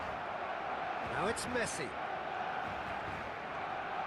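In a football video game, a stadium crowd keeps up a steady roar beneath someone commentator who talks over it, with a brief swell in the middle.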